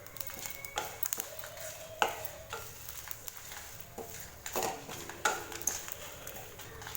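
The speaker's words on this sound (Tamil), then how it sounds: "புளி சேர்த்திட்டு வதக்கிட்டோம்." Tamarind and curry leaves are sautéed in a pan for horse gram chutney, with a gentle sizzle under repeated scraping, clattering stirs of a spoon against the pan, and no talking.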